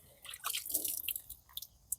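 Water is sprinkled onto moss and soil while planting Orostachys rock plants in a pot, making soft, close patters and small wet drips in uneven bursts that thin out into a few scattered drops.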